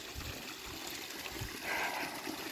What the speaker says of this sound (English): So you can still see that there's a bit of a waterfall happening here.